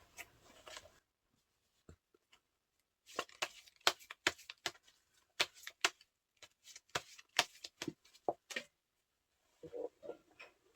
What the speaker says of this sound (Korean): 좋은 카드 한 장 뽑아볼게요